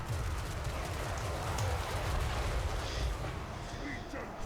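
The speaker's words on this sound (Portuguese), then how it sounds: "levaram 2 tiros de canhão" Cannon fire from a Total War Warhammer 3 battle, heavy low booms and rumbling blasts rolling continuously under a dense wash of battle noise, with no clear break over the few seconds.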